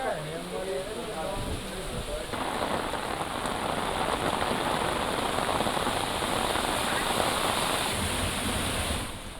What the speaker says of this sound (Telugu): నల్గొండ, వరంగల్ జిల్లాలలో భారీ వర్షం కురిసింది.